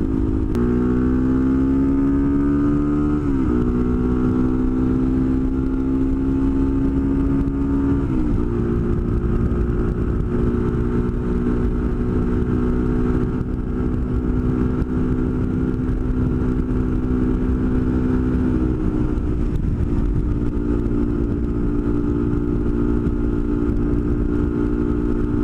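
Motorcycle riding at higher speed, caught on a GoPro: a loud, steady engine drone with rising and falling pitch through gear changes, heavy wind rumble underneath, continuous throughout with no talk.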